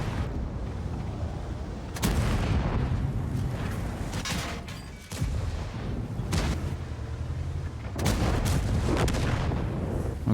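Tank cannon shots in a video game, a Strv tank firing: several heavy booming blasts at irregular intervals, each followed by a rumbling decay over continuous battle noise, with no talking.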